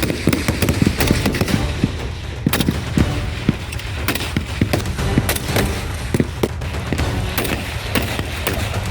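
Rifle gunshots crack out repeatedly during military training, a steady run of sharp reports at irregular intervals, some close and loud and others more distant, with no talk heard.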